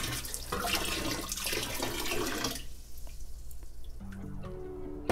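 Vinegar poured into the drum of a washing machine being cleaned to remove odor, a steady splashing liquid pour heard close up, easing off midway before a brief second trickle.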